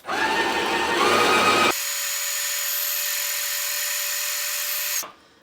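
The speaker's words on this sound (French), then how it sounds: "Et là, tu recommences à rincer la machine." An airless paint sprayer runs while being rinsed through with soapy water, a loud steady mechanical whine and hum that shifts to a smoother high drone partway through and then stops abruptly.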